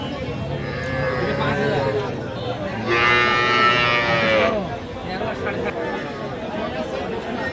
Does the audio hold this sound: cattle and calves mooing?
yes